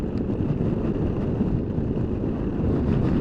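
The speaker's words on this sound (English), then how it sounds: "That wind is amazing." Strong wind buffets a Piaggio MP3 scooter rider on the road, a loud, continuous rushing roar with no voices.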